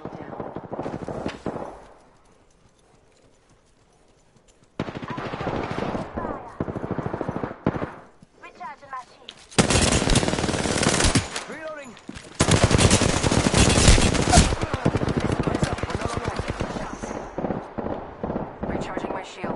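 Rapid automatic gunfire in Apex Legends comes in loud, close bursts, with brief lulls between long rattling strings of shots, mixed with game sounds and occasional voice chatter.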